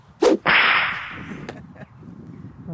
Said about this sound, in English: Shall we take out the whip?